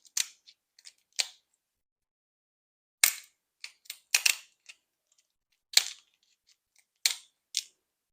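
Cheap kitchen scissors snip through a seafood shell in sharp, isolated clicks and crunches, close and dry, coming in small clusters separated by silent pauses.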